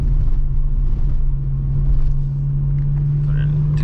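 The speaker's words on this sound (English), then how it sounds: "Little exhaust note back there." A low, steady exhaust drone hums from a Volkswagen Jetta VR6 wagon while driving, a constant engine rumble filling the background.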